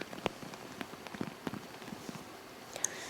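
Rain falling during a two-day downpour in the Yeongdong and mountain areas of Gangwon: sparse, light patters and drips on a surface with scattered small impacts over a faint background hiss.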